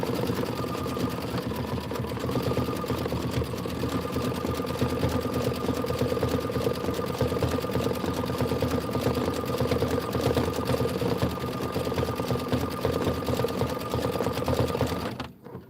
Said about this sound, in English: 4 minutes of stitching for the windows